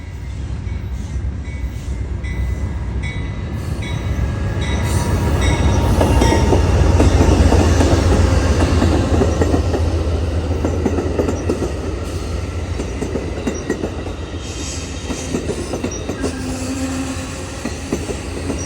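A train with two locomotives rolls steadily past close by at BNSF Galesburg yard, wheels clattering on the rails, then slows with faint squealing wheels as it comes to a stop, loud throughout.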